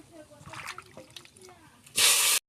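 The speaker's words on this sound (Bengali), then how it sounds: "আমগুলো আমি আস্তে আস্তে করে দিয়ে দেবো।" Soaked mangoes for a sour mango dish go into a hot pan, with a loud, close sizzling hiss near the end after soft handling noises, while a person speaks.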